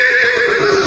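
A horse whinnies once in a rural village farmyard, a loud, close, wavering neigh lasting under a second with no talk over it.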